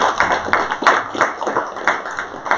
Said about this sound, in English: Round of applause for all of our 3